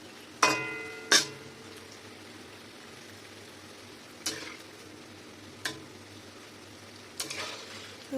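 Jackfruit fritters dropped one by one into hot oil over medium heat, several sharp splashing pops standing out over a soft, steady background sizzle, with no talking.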